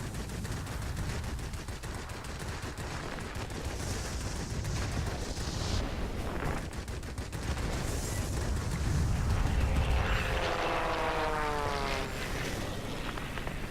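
Rapid bursts of aircraft cannon fire strafe ground targets from a Russian Ilyushin IL-8 or IL-10 attack plane in World of Warplanes, sustained loud rattling over a droning engine, with a whistling sweep and no talk.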